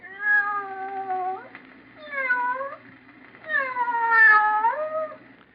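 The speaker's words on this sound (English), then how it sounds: "Just a sound effect. But in your imagination, didn't you picture a cat meowing?" A cat-meow sound effect from a radio mystery drama: three clear, close, drawn-out meows, the last one longest, with short pauses between them.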